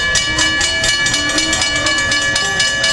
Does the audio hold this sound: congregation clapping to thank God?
no